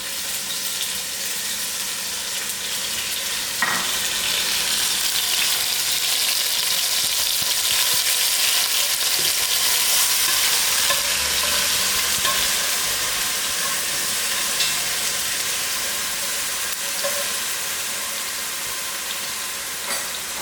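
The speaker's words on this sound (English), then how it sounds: "Then I put in my onions to fry." Onions fry in a quarter cup of hot oil for a broad bean curry. The pan gives a loud, steady sizzle up close, with small pops and crackles now and then and no voices.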